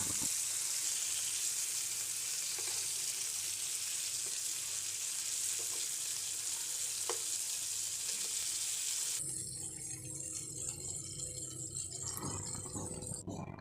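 After being flipped, pangas fish sizzles in shallow oil in a wok, a constant close hiss with occasional sharp pops and spatula clicks, settling into a softer, rougher crackle toward the end.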